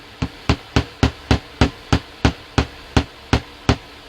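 A hammer drives down through a stack of thin painted paper sheets for a pocket book, about a dozen sharp, evenly spaced blows struck close up in a steady rhythm.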